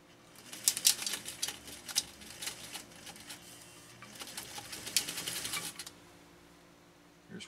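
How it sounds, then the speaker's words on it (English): A sewing machine stitching with embroidery thread, quiet rapid mechanical clatter in two bursts of a couple of seconds each, separated by a pause, with a low hum beneath. "We're sewing with embroidery thread."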